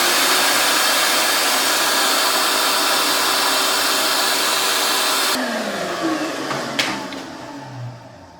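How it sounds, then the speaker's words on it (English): A shop vacuum runs steadily and loud at close range while clearing drilling chips from work on a CRF50 dirt bike, its whine holding level before cutting off and winding down near the end. "So I'm going to stage this shop vac, and hopefully that'll suck up any chips that we create."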